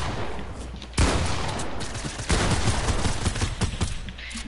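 Gunfire in a first-person video game, dense and continuous, with bursts that grow louder around the one- and two-second marks and keep going unbroken to the end, with no pause between the shots.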